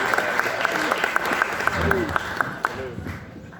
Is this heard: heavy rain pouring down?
no